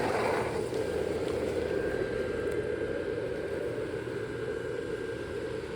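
An old fan blower inflates a Gemmy 2008 eight-foot airblown Frosty the Snowman, giving a steady, moderately loud whirring rush of air with a faint tonal hum throughout.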